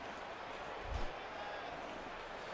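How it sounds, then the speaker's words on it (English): Steady, loud crowd ambience from a stadium in the baseball video game MLB 11: The Show, a dense continuous roar of spectators that holds level throughout with a slight swell near the one-second mark. "I appreciate how loud the crowd ambience is in this game"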